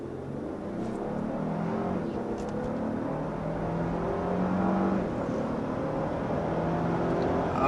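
A 2023 Lexus LX 600 SUV with a 3.5-liter twin-turbo V6 accelerating hard to 60 mph, its engine note a steady, rising drone heard from inside the cabin throughout, with no talking.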